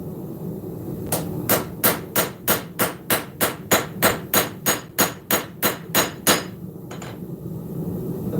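Hammer striking hot steel while forging a knife blade, about twenty evenly spaced, ringing blows in a steady rhythm, close and loud, followed by a couple of lighter taps.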